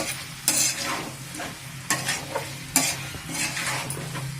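Sliced potatoes coated in chili powder fry in a pan, with loud scraping stirs of a spatula at irregular intervals over a low continuous sizzle, close and without talk.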